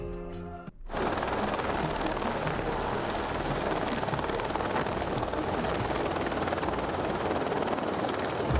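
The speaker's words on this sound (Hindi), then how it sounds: "इस हेलीकॉप्टर ने एक घर में बने स्विमिंग पूल से ही पानी भर लिया" A helicopter's rotor and engine roar loud and steady throughout, starting abruptly after a brief quieter moment and continuing without a break.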